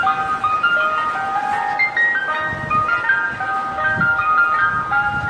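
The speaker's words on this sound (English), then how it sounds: "Whenever I hear the ice cream truck, oh, you better believe it." An ice cream truck plays its tinkling electronic melody loudly and continuously, with a steady motor rumble underneath.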